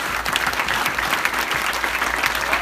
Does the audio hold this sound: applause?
yes